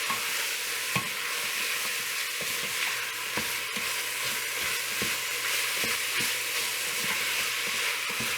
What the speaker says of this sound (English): So dump that in and give that a good stir.